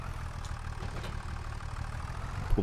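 A tractor engine idles in the Farming Simulator 25 video game, a steady low rumble held at an even level throughout with a faint knock near the end.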